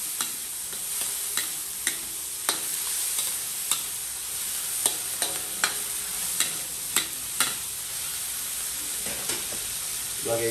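Onion, garlic and tomato sizzle in a hot pan for a mung bean dish while a utensil scrapes and stirs in a steady series of close, sharp clicks over the constant frying hiss.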